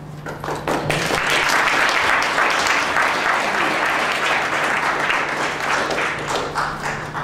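A conference audience bursts into loud, sustained applause to welcome a school principal to the stage, with dense clapping that rises quickly and slowly thins toward the end.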